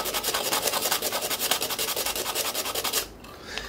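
A lockpick handle is roughened by sanding or filing, producing fast, regular, close rasping strokes for about three seconds. The strokes then stop, leaving a quieter tail.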